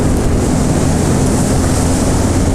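A 2020 Suzuki Gixxer SF 250 motorcycle engine while riding gives a steady, loud low drone blended with wind rush, continuous and unbroken throughout.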